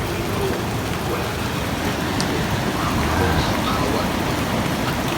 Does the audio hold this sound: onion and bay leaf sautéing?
no